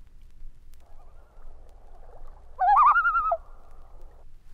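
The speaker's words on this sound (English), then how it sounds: "And finally, the type 3 tremolo goes a step higher." A common loon gives a type 3 tremolo call, a loud, rapidly wavering quaver that jumps higher in pitch, standing out briefly over a faint, steady background tone.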